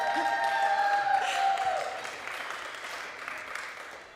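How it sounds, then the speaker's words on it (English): Church audience at a live Thursday night service applauding, a steady wash of clapping with a few whoops that swells early, then eases but keeps going to the end, with a tonal whistle or feedback line over the first half. "I need an applause sign. Applause, applause."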